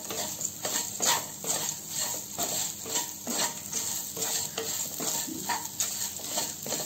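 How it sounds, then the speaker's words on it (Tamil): Diced potato podimas fried with idli podi in a pan over a low simmer, a steady close sizzle broken by repeated scraping stirs of a spoon against the pan, with no voices. "இப்போ ஸ்டவ்வை வந்து சிம்மில் வச்சுட்டு நல்லா இதை ஃப்ரை பண்ணி விடுனாங்க"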